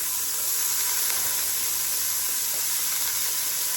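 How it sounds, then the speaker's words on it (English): Diced onions hitting a hot pot for beef tips and gravy give a loud, continuous, even sizzle with a steamy hiss that holds steady throughout, no other sounds on top. "I'm going to put in about a cup of diced onions."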